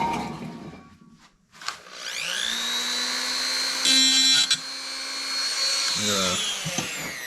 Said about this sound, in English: Wait for the drill to turn off.